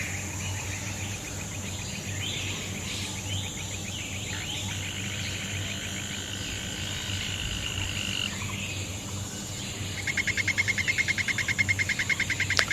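Poison arrow frogs call from a lush terrarium, a steady dense chorus of croaks and insect-like trills, with a sharper rapid pulsing call rising near the end.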